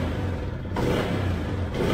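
A 2005 Yamaha Jupiter MX motorcycle engine drones and revs with a steady low rumble, briefly dipping before rising again, loud and close.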